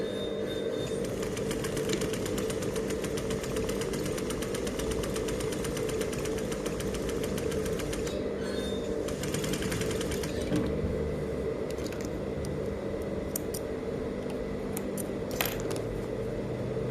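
A sewing machine stitches a piped faced seam on fabric, topstitching close to the seam line. A steady, close mechanical whir with rapid needle ticking runs unbroken for the whole stretch, with small rattles along the way.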